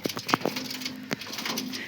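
Soft, low pigeon coos in short bursts, close by, with faint background hum and a few quiet rustles.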